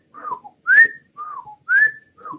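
A person whistles to imitate a child's wheezing on breathing out and in, making alternating short falling and rising tones, clear and close with silence between them.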